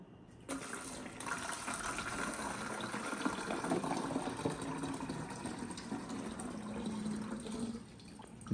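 Water runs steadily into a container while a stock solution of ammonium sulfate and magnesium sulfate is being made. A continuous close splashing fill lasts several seconds and stops abruptly near the end.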